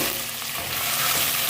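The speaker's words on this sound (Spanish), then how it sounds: "aquí tengo mis costillas, las vamos a poner a sofreír" Pork ribs and a chop sizzle in a small amount of hot oil, a dense, continuous crackling hiss that stays close and loud throughout, with no voices.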